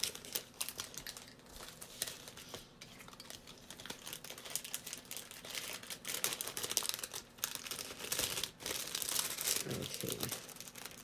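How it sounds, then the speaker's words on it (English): Thin plastic bags crinkle and rustle as they are pulled open, steady papery crackling with sharp bursts throughout, close by and fairly quiet, with no talk. "My plastic bags aren't opening now."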